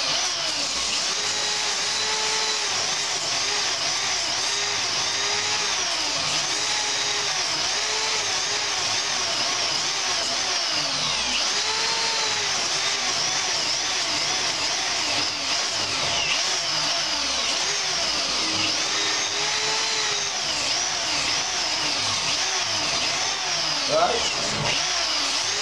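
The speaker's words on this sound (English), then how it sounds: "you could have a belt sander, right?" Belt sander sanding, a continuous, even grinding whir with a steady high rasp and small periodic wobbles, close and unbroken for the whole stretch.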